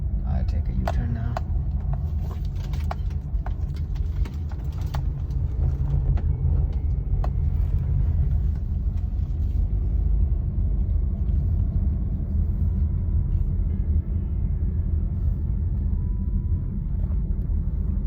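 A car drives along a quiet road and swings through a U-turn, its engine and tyres making a steady low rumble up close inside the cabin throughout, with a voice talking briefly early on.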